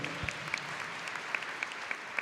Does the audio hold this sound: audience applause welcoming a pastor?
yes